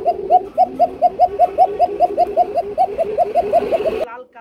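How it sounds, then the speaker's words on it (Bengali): Good-breed pigeons, Lahori and racing types kept for sale, coo close and loud in a steady rhythmic series of about seventeen throaty calls that stops abruptly at the end. "মাশাআল্লাহ, ভালো জাতের কবুতর বন্ধুরা।"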